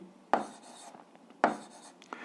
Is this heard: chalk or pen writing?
yes